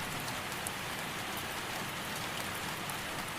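Steady, dense rain falls evenly throughout, a soft continuous hiss of drops on surfaces with no voices or other sounds.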